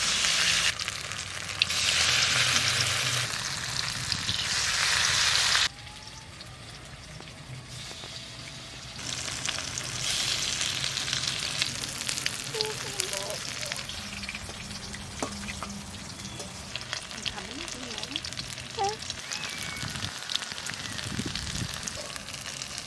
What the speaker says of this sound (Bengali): ধনে পাতার বড়াও ভাজা হয়ে গেছে